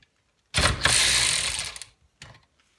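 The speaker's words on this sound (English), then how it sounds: "let's put the wrench in" An ACDelco ARW-1209 electric ratchet wrench runs in one loud, close burst of about a second and a half of whirring ratchet clatter, then stops, with a brief second short buzz after a pause.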